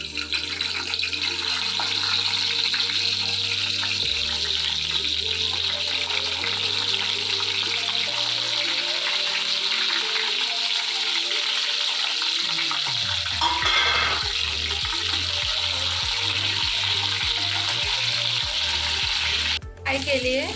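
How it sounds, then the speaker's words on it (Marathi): Stuffed eggplants frying in hot oil, a loud continuous close sizzle with a low hum underneath that changes midway as pieces are added one by one, with occasional stirring knocks. "आता आपण एक एक करून सोडूया तेला"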